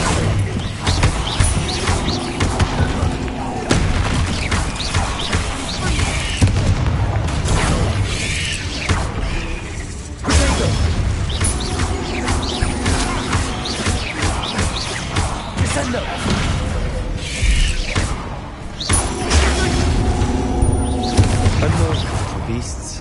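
In Hogwarts Legacy, the Bombarda blasting spell sets off several booming, crashing explosions with shattering debris, mixed with game music and character voices.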